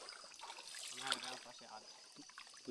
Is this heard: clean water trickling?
yes